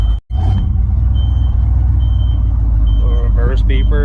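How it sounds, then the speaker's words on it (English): A 1990 Chevrolet C3500 truck idles loudly and close with a heavy low rumble, a brief dropout near the start, and a reverse beeper's repeated tones coming in toward the end, with voices talking over it. "A reverse beeper."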